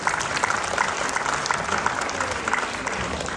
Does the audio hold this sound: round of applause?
yes